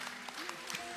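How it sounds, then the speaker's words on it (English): A school audience at an annual day function claps for a student band, a brief, fairly faint patter of applause with a voice heard faintly over it. "Keep that applause going for Joshua and Pendar on the drums."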